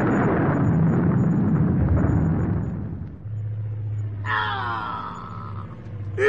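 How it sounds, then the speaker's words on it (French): A bomb explosion effect from a French radio drama: a loud, rumbling blast that decays over about three seconds, followed by quieter whistling and droning tones. "Une bombe."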